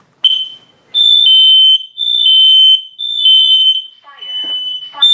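Smoke detector under test in a home, sounding piercing high-pitched electronic beeps in a repeating on-off pattern, loud and close, with a brief voice near the end.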